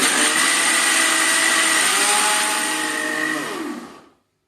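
A mixer grinder runs at high speed, blending soaked jowar into a paste with a loud, steady whine and whir, then spins down and stops near the end, with no talking.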